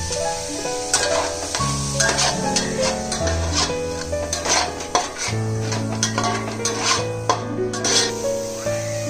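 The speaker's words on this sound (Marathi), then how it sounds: "तेल गरम झाल्यानंतर आपण फाईन चॉप केलेलं कांदा टाकायचं" Finely chopped onions, four of them, cooking in hot oil in a pan, with a constant sizzle under repeated spoon scrapes and clanks against the pan, close and fairly loud, no talking.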